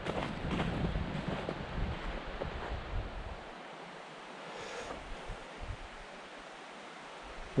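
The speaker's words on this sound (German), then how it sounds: "Es geht ein leichter Wind" Light wind on a mountain trail near a hut blows across the microphone as a soft, continuous rushing noise, stronger at first and then easing into a quieter steady hiss.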